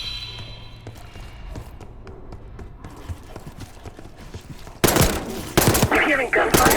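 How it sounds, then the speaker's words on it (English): Gunfire in the Call of Duty Black Ops 6 campaign: quiet, scattered distant pops over an ambient game bed, then a sudden burst of loud, close rapid shots near the end. "You hearing gunfire?"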